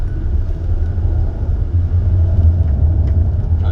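A Volkswagen car runs through a slalom road test, its engine and tyres producing a steady low rumble close by, continuous and loud with no talk over it.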